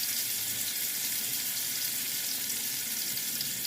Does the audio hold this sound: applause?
no